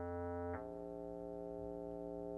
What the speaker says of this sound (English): A basic triangle bass is like